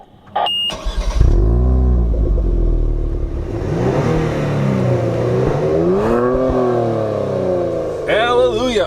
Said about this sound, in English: Kia actually allows you to have 3 different settings for engine note enhancement that you're hearing in the cabin there